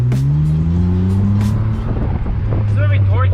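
A five-speed car with a 1JZ VVTi engine and a Tomei Arms MX8280 turbo, engine droning in a low steady tone that rises slightly as it accelerates, with turbo whistles near the end and faint cabin noise.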